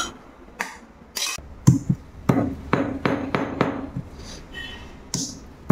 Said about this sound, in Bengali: এলাচগুলোকে একটু গুঁড়ো করে নিলাম